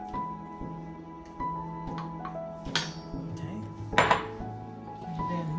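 Persimmon oatmeal cookie batter with raisins is mixed in a bowl, a utensil clinking and scraping against the sides in irregular knocks, with one louder clatter near the end.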